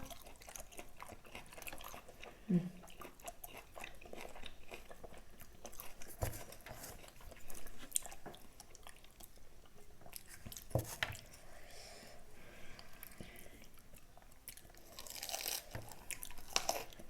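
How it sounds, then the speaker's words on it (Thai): Wet, crunchy chewing of raw tilapia sashimi, firm flesh bitten and mashed close to the mic in irregular bursts, with occasional squishy and smacking sounds and a few louder crunches. "แต่ค่อนข้างเหมือนจะเคี้ยวไม่ค่อยแหลกนะพอเราดูไหมเนื้อมันแข็งแบบ"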